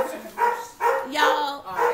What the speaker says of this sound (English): My auntie's dog is so loud.